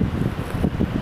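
Gusty wind in Rockport, Texas buffeting the microphone beside a parked travel trailer, a low rumbling roar that rises and falls in uneven pulses.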